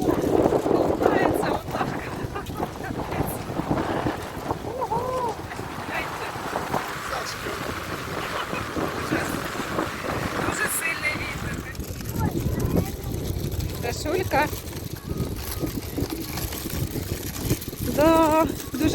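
Strong wind buffets the microphone in rough gusts while people talk over it outdoors near a small beach.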